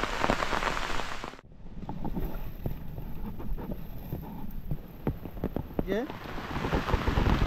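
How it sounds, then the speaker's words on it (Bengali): Rain falls steadily during a storm that has flooded Ghatal and knocked down an outdoor kitchen, giving a dense, continuous patter with scattered nearby drips and wind noise. The hiss breaks off once briefly and then resumes. "আর এই বৃষ্টির জন্য তো আমি কোথাও বেরোতে পারছি না, ঘাটাল এতক্ষণে ডুবে গেছে।"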